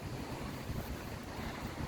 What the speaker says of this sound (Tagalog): kasi sobrang lakas ng hangin.